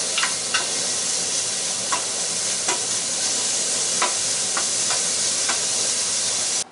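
Fat renders and fries in a pan over high heat for smothered fried squirrel with onions to follow. A loud, close, continuous sizzle and hiss carries irregular crackles and pops all the way through.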